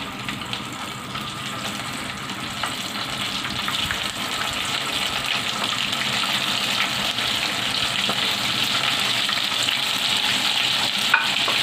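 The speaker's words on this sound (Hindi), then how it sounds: "ऑयल हो गया है गरम, इसके अंदर विंग्स डाल देते हैं" Marinated chicken wings fry in hot oil with a dense, steady sizzle and crackle that grows slightly louder over time, close up and with no voices.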